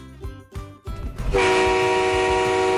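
After a few low thumps, a loud, sustained car horn blares and holds steady to the end, close and piercing.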